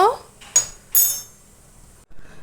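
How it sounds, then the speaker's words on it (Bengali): A spoon clinks twice against a steel mixer jar as half a spoonful of poppy seeds goes in, sharp, close metallic taps separated by quiet, followed by a faint soft rustle. "মিক্সিং জার নিয়ে নিয়েছি, দিয়ে দিচ্ছি 1/2 চামচ মতো পোস্ত"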